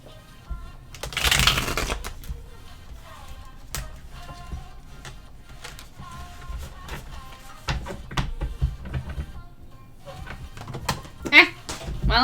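Tarot cards shuffled by hand, a riffling burst early on followed by scattered flicks, slaps and taps of cards landing, some dropped to the ground, with a voice talking faintly in the background.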